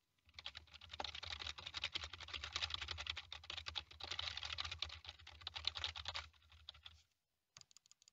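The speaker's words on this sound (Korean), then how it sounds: "키보드와 마우스 버튼을 눌러보겠습니다" Close, rapid typing on a computer keyboard mixed with clicking buttons, a dense clatter of keystrokes for several seconds captured through an EPOS H3 Hybrid headset microphone, stopping abruptly before a few last clicks.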